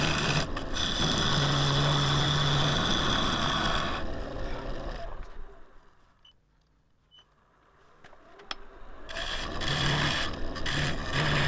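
A wood lathe turns a Splitsuarina bowl while a tool smooths the ridges of its stepped profile, a steady buzzing cut that drops away to near quiet midway, with faint clicks, before resuming.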